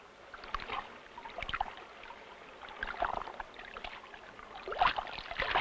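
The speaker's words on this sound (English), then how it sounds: "the first dinghy off the production line goes through her trials at the newly landscaped Lochore Meadows" A new dinghy on trials at Lochore Meadows, faint lapping and splashing of water against the hull with soft irregular sloshes, distant and quiet throughout.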